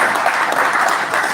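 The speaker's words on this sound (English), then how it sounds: "Can we give ourselves a applause?" Brief burst of audience applause at a public relations institute inauguration ceremony, loud and close, a dense clapping wash lasting only a moment without speech.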